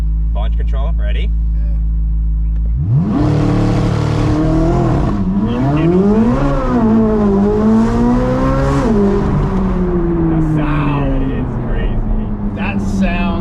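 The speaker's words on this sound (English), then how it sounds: "Let's see if I can do a launch on this street." A Corvette on a street makes a hard launch-control start, the engine holding a steady idle and then surging into a loud, rising roar through several upshifts. People talk over it.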